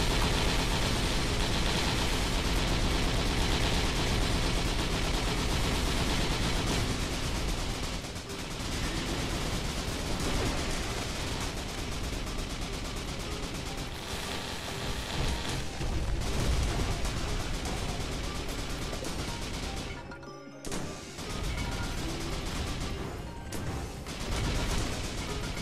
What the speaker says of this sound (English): These fireworks.